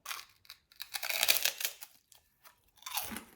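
Close, crisp crunching of a lime-flavored pork rind snack being chewed in several bursts, with brief quiet pauses between bites.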